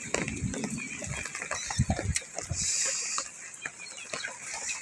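Chickens cluck and scratch around close by, with scattered short calls and a steady background hiss.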